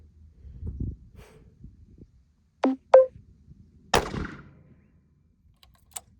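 A rifle fires a few sharp, isolated shots in a quiet setting. Each crack is short and fairly close, separated by stillness, with faint handling noises in between.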